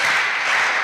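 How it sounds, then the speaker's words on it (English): A crowd at a youth summit claps during a speaker introduction, a brief, dense burst of applause filling the room with no voice over it. "With a resounding applause."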